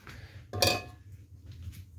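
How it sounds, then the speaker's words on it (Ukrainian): Dishes clink during washing: one brief, faint ringing clink rises over a quiet low hum in the kitchen. "Ой, посуди, як завжди."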